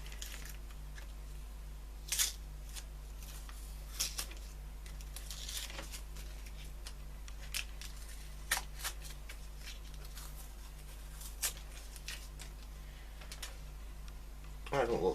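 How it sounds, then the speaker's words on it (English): Tape being peeled off an epoxy-repaired Vtech 386 SX 33 laptop case: faint, sporadic crackling and ripping clicks at close range over a quiet, steady background hum. "we'll take this tape off."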